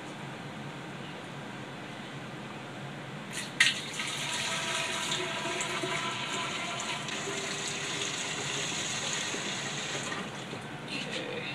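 Hot water runs steadily into a homebrew keg after a dose of OxiClean, beginning with a sharp clunk and settling into a soft, continuous hiss of filling at moderate distance.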